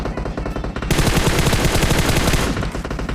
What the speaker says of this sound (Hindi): ऊपर तक कुछ ज़्यादा फायरिंग साउंड आ रहा था